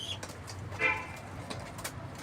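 Pigeons coo softly in a loft, with low repeated coos and a few brief sharper calls, close by and with no talking.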